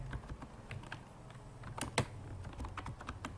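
Rapid clicks of keystrokes on a computer keyboard during CorelDraw banner design work, with a sharper key press near the middle, close and fairly quiet with no talking.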